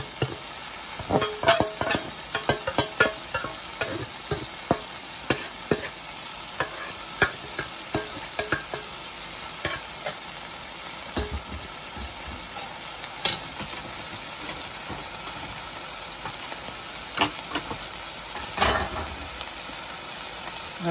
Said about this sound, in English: The fish is going in now.